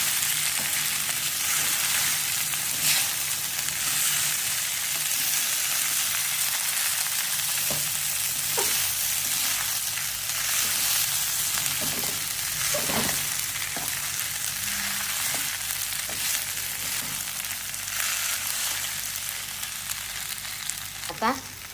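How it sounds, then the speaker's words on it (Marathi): Sabudana khichdi of tapioca pearls fries in a pan with a dense, continuous sizzle, while a spoon stirs it in occasional scrapes and soft clicks, close and steady throughout with no talking. "आता छान असं हलवून."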